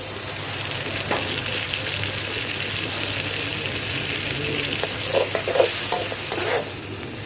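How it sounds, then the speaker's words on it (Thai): Catfish stir-fried in a pan with red chilies, bird's eye chilies and Thai garlic sizzles loudly and continuously, with a ladle scraping and tossing in bursts toward the end. "ขั้นตอนการผัดแบบนี้ค่ะ ผัดง่ายๆนะคะ"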